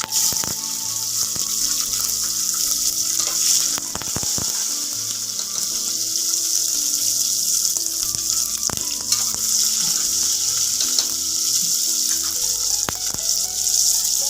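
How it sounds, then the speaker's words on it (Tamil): Onions sautéing in oil with curry leaves for a mixed sprouts masala curry give a steady, loud, close sizzle, with occasional sharp spatters and stirring knocks across the whole stretch and no talking. "வெங்காயம் நல்லா எண்ணெயிலேயே நல்லா வதங்கட்டும்"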